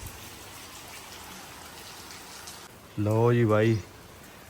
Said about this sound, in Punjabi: ਸੂਰਜ ਦੇਵਤਾ ਸਾਹਮਣੇ ਚੜੇ ਹੋਏ ਨੇ ਨੇ ਮੀਂਹ ਚੱਲਦਾ ਦੇਖੋ